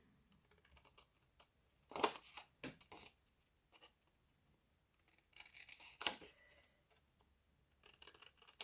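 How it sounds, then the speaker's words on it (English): Scissors snip out paper card pieces for a handmade envelope card, a few soft, close crisp cuts and rustles scattered between quiet pauses. "You're going to cut those pieces out."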